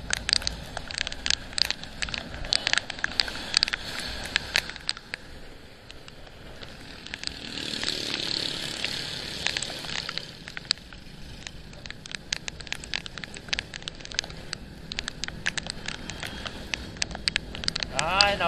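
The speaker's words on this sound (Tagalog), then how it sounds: "Nabut pa tayo ng ulan." Rain pattering on the roof of a roadside waiting shed in Isabela, Philippines, a steady, fairly loud patter with sharp drips throughout and passing traffic now and then, while people talk at times.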